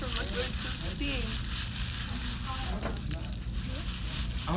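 Popcorn kernels sizzle in a hot pan as they cook. The frying hiss is steady and fairly faint, with voices talking over it.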